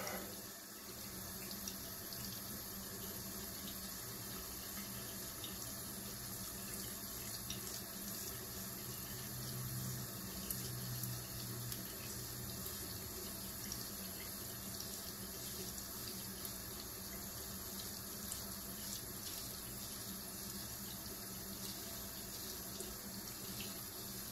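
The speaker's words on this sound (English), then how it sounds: "It's another reason I leave the water running, just to keep my blade moist." Water runs steadily from a bathroom sink tap during a straight razor shave, a faint, even hiss and trickle that continues unbroken throughout with no talking.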